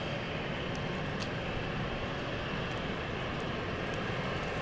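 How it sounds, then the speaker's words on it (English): An ITA Airways Airbus A220 airliner approaching London City Airport, heard as a steady, distant broadband engine roar that holds evenly throughout with no talk over it. "Is that ITA Airways A220? There she is. Parallel to the runway, which will be in very soon."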